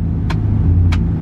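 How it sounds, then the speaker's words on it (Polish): Engine of a large American pickup truck rated up to 3.5 tonnes idles with a steady low rumble, broken by two short clicks as the gear selector is moved. "Zmiana biegów tutaj."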